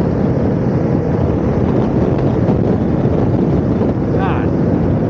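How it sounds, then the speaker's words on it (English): Strong, steady wind buffets a camera microphone outdoors at the Sturgis motorcycle rally, a loud continuous low roar that never lets up. "Boy, that wind's blowing hard today"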